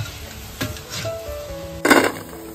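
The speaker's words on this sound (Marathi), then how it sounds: "असं अधूनमधून ना आपल्याला मिक्स करत राहायचंय, म्हणजे हलवत राहायचंय, म्हणजे कसं ते व्यवस्थित चारही बाजूने शिजतात" Rice flour balls frying in hot oil in a pan and being stirred, with a steady low sizzle, scattered soft scrapes and clinks, and a louder burst of bubbling near the end.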